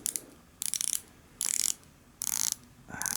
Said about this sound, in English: Now if you take a listen to the bezel action,